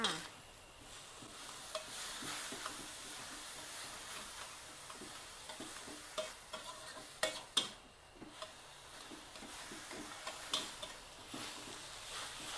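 Minced pork being stir-fried dry with garlic and fresh chili, a steady sizzle in a pan with repeated scraping and clicking strokes from a utensil, no voices.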